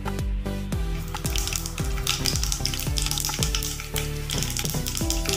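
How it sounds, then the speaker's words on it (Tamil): Mustard seeds pop and splutter steadily in hot oil while tempering for Tamil-style variety rice, a dense crackling sizzle with sharp little bursts throughout. "கடுகு வெடிக்கட்டும்."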